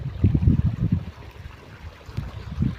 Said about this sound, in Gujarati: જો અહીંથી આપણે એમ જાય છે પાણી આમ.